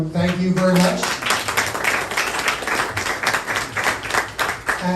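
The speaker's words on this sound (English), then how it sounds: "A round of applause for everyone." An audience applauds in a hall, dense clapping that keeps up for several seconds, with a voice speaking briefly at the start.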